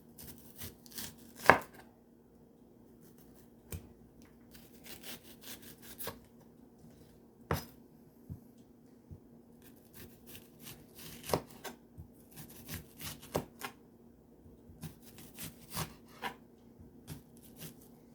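A knife chops white onion on a board with sparse, irregular sharp strikes separated by quiet gaps, close and fairly soft, with no talking.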